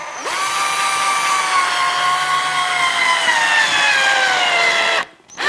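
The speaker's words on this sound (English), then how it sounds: "It's hard to hold the camera with this drill." A handheld power drill drives a screw into a fireworks rack, its motor whining up quickly and holding a steady, close, loud pitch for about five seconds before cutting off abruptly.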